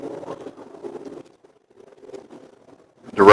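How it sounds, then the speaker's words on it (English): A plane flies overhead outdoors near a river, heard as a faint, uneven low drone that comes and goes over about three seconds, with a sharper, louder burst of noise right at the end. "that sound you're hearing is an overflying plane"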